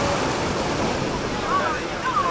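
Sea waves wash steadily onto a crowded beach, a continuous loud rushing surf with wind noise on the microphone and faint voices in the background.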